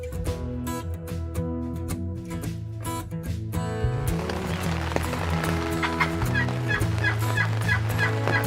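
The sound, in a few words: wild turkeys gobbling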